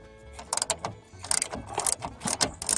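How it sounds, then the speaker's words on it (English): Close ratcheting clicks from a 10mm regular socket on a ratchet as two nuts come off a car door check, in short irregular bursts with brief pauses between them. "take these two 10mm bolts off, or nuts off. Alright, 10mm socket."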